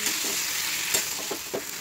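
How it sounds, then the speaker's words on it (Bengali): A pumpkin and shrimp chhechki being stirred in a pan, a spatula scraping in a few quick strokes over a continuous close sizzle, brief and without speech. "তো ভালো করে এবার নেড়ে নেব"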